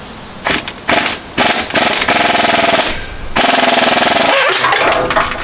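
Impact wrench hammering on a nut welded onto a broken exhaust manifold stud of a 1995 Ford F250, loud close bursts of rattling blows, a few short pulses followed by a long sustained run.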